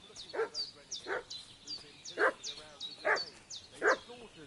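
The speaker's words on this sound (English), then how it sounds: "What's that dog making such a fuss about?" A dog in the video game Kingdom Come: Deliverance 2 barks in a steady series of five sharp woofs, moderately close, while faint repeated chirping runs underneath.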